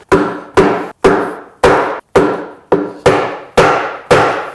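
A wooden mallet strikes a glued wooden tenon, driving it into place with nine loud, sharp knocks at a steady, fairly quick pace, each ringing briefly before the next.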